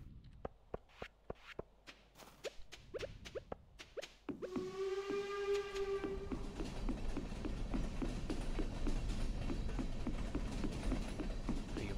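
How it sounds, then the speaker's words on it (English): A train passes in the farming video game Stardew Valley: a few sharp clicks, then a long multi-tone whistle blows, followed by a steady rolling rumble with rhythmic clacking that continues to the end. "Train."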